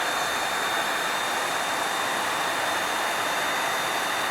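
A heat tool blasts hot air across scorch paint to darken it, a loud, steady, close roar of rushing air that holds unbroken from start to finish.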